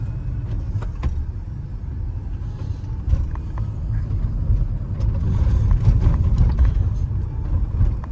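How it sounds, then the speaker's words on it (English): A 2004 Mercedes SL500 fitted with a coilover conversion drives around a residential block, its low steady road and engine rumble continuous throughout with no talk. "So I drove it around my block real quick just to feel it."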